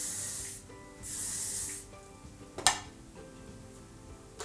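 Hairspray from an aerosol can is applied to teased hair in two hissing bursts of about half a second each, close and fairly loud, followed by faint handling noises.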